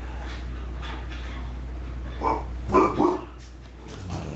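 A dog barking in the background, a few short excited barks and yips heard moderately close over a steady hum.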